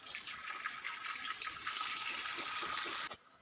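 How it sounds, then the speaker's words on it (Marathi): Ivy gourd (tondli) gets rinsed under a running tap into a sink, a steady close rush of water that cuts off abruptly near the end. "मी सर्वप्रथम ही भाजी धुवून घेत आहे."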